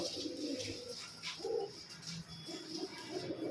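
Pigeons coo in soft, throaty rolling phrases close by, repeating several times with faint chirps and a steady background murmur.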